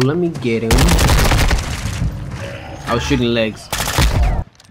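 Rapid automatic gunfire from Call of Duty: Modern Warfare II, loud bursts of shots aimed at legs, mixed with game effects and someone talking briefly between bursts.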